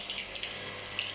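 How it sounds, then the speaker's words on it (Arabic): Water from washing a building's stairway pours steadily into a floor drain by the gate, a close, continuous hiss and splash with no talk. "الميه بتكون رايحه داخله في البلاعه"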